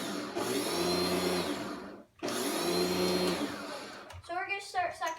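A Kenmore Magic Blue DX vacuum cleaner switched to carpet mode gives a loud steady motor whine with a rising hum, cuts out briefly and restarts, then stops as a voice talks near the end.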